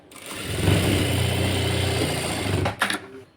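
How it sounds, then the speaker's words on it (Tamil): A sewing machine runs steadily, stitching a straight seam along a fabric strip in princess-cut garment work, a continuous close mechanical whir that stops near the end with a few brief clicks. "இந்த பட்டிக்கிட்ட நீங்கள் ஒரு ஸ்ட்ரைட்டாக ஒரு தையல் கொடுத்துக்கோங்க"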